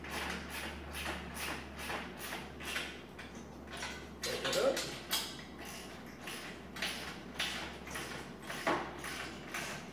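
A ratchet with a 1/2 inch socket on a short extension turns stainless bolts on a park bench, giving a series of quick, evenly spaced clicking strokes up close against a steady low hum.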